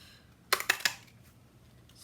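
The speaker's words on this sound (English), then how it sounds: "I'm going to cut that out, and I'm using the punch" A paper punch cutting out a shape for a flower card, three quick crisp clicks close up against a quiet background.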